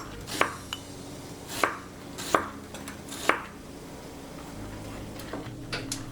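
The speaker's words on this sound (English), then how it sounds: "Cut a large onion into lengthwise and then into strips." A knife slicing a large onion into strips on a cutting board, four or five distinct close chops spaced about a second apart, followed by quieter light taps, with no voices.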